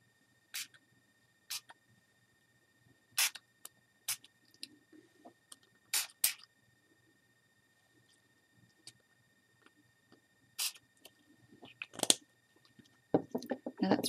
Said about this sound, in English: Spray on a little more of each of the colours until you're happy with the coverage on the page.